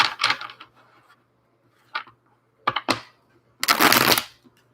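Tarot cards are shuffled in short, crisp bursts of riffling and flicking, close up, with quiet gaps between and a longer rustling burst at the end.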